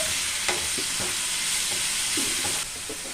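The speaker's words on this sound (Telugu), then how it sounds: "ఉల్లిపాయ పేస్ట్ పచ్చివాసన పోయేంత వరకు ఫ్రై చేయాలండి" Onion paste sizzles steadily in a hot pan, a continuous close frying hiss broken by a few soft scraping stirs, with no talking.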